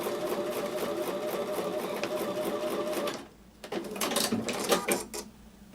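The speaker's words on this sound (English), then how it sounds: "I'm going to take these over to the sewing machine and sew with a 1/4 inch." A sewing machine stitches pieced quilt block fabric with a steady, rapid mechanical whir for about three seconds, then stops, leaving brief handling clatter and faint room noise.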